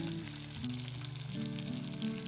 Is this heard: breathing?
no